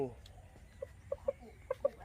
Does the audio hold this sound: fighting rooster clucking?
yes